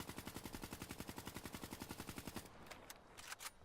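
Automatic fire from a KN44 assault rifle shot from the hip in Call of Duty Black Ops III, a rapid, steady burst of loud, evenly spaced shots for over two seconds before the burst stops, leaving game ambience.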